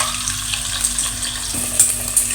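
Spices with black pepper and crushed red chili fry in oil in a pan for an egg gravy curry, giving a steady close sizzle with small crackles and faint stirring scrapes.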